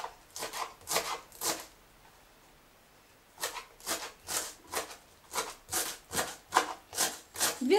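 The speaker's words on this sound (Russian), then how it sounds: "И заодно нарежем зелень укропа." A knife finely chopping fresh dill on a board, a run of quick rhythmic cuts, a pause of about two seconds, then another steady burst of chopping, close and fairly quiet.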